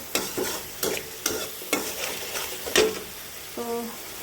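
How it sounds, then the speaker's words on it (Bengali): Vegetables and greens stir-fried in a pan at home, with steady spatula strokes scraping through the sizzle roughly every half second, close and clear with no talk, and a short tonal hum at the very end. "এখন এটা আমি কষিয়ে নেবো"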